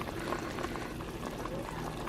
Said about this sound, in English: So this has been boiling away and boiling away and boiling away.